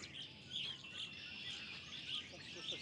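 A red-winged blackbird and doves call outdoors in Ontario, with repeated high chirps and bright trills at an even pace over a soft background hum, moderately faint and without any talk.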